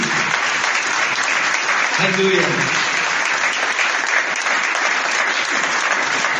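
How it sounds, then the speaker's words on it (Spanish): Steady, dense applause from a church congregation during a Spanish-language worship service fills the whole stretch at an even level, with a voice briefly calling out over the clapping partway through. "Dale un fuerte aplauso a nuestro Dios."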